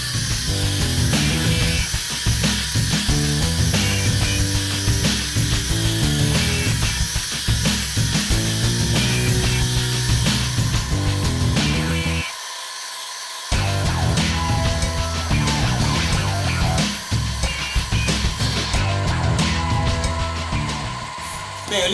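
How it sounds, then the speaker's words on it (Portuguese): Orbital sander running over dried car body filler on a Peugeot 207 with 80-grit paper, a loud, continuous rough buzzing grind that drops out briefly for about a second midway before resuming. "eu lixei aqui com a lixa 80 na roquite"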